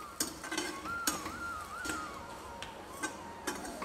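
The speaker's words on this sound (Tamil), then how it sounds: "அந்த வேப்பம்பூவையும் சேர்த்து நல்லா ஒரு வாட்டி வதக்கிக்கணும்." Neem flowers and dried chillies are sautéed in a pan: quiet, evenly spaced spatula taps and scrapes, with a faint thin whistle-like tone in the background and little audible sizzle; no one speaks.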